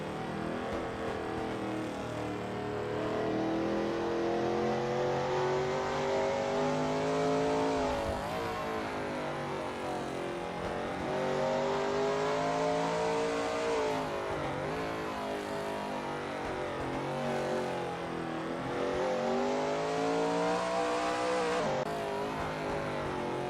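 Shelby Mustang GT350R race cars lap Zandvoort in a racing game, their engines howling continuously and loud, rising steadily then dipping at repeated gear changes and braking points.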